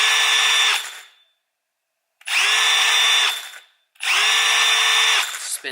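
A Milwaukee M12 FUEL 1/2-inch cordless hammer drill on speed 2 whirs at a steady high pitch in three bursts of about a second each, separated by silence, close to the microphone.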